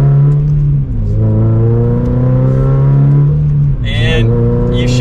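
A modified aftermarket exhaust on a Toyota GR86 sports car drones loudly and steadily, its pitch dipping and climbing again as the engine revs up and down.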